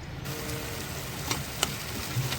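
Tamarind masala for temple-style puliogare simmers in oil on low heat, giving a steady, close, soft sizzle with faint occasional pops and stirring ticks, no voices.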